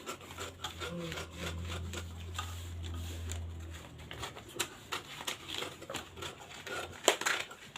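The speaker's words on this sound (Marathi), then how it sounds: "आता आपण एक्स्ट्राचा जो आपला पेपर आहे तो आपण कट करून घेऊयात" Extra paper is cut away while a sewing pattern is trimmed, giving scattered dry rubbing and crisp snipping sounds over a low steady hum, growing busier and sharper toward the end.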